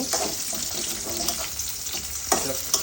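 Chopped onions frying in a pan, a close, continuous sizzle with occasional louder crackles and stirring scrapes, no voices.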